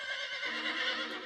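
A horse whinnies loudly in an animated scene of Paul Revere's midnight ride toward Concord. It is one sustained, close neigh lasting about a second, with no talk over it.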